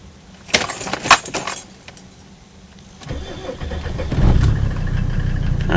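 Cold start of a 1990 Mercedes 300D diesel: keys jangle and clatter up close, then the starter cranks and the engine catches, settling into a loud, rough, steady diesel idle.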